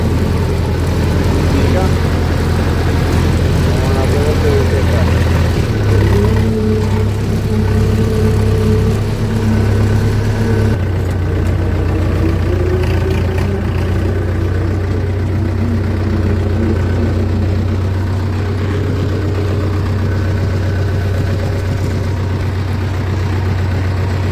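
A 5911 tractor pulling an 11-foot rotavator in second gear gives a steady, loud, low engine drone that holds unbroken throughout, with a slight shift in pitch partway through.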